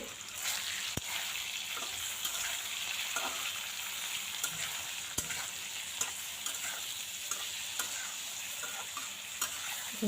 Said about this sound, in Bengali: হলুদ দেব, নাড়াচাড়া করে ভেজে